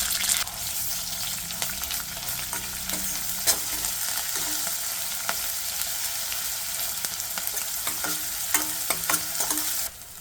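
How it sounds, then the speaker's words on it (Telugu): Onions, curry leaves and ginger garlic paste fry in a pan for a cluster bean curry, giving a continuous close sizzle broken by scattered clinks and scrapes of stirring, with no speech. "ఉల్లి ముక్కలు కరివేపాకు వేయాలి ఒక స్పూన్ అల్లం వెల్లుల్లి పేస్ట్ వేయాలి"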